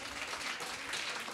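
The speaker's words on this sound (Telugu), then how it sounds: "క్లాప్స్ కొట్టండి" Audience applause at a final-day school event with reports and a skit, a steady broadband wash of clapping filling the whole short moment at moderate, even loudness with no voices over it.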